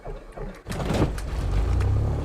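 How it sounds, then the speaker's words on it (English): A simulated aircraft engine in the flight simulator FSX sputters to life, sounding like a rough, dodgy car engine. A brief quiet rattle gives way to a sudden catch, then a steady, loud, rumbling drone with a low throbbing hum. No voices. "The sound of a really dodgy car engine spluttering into life"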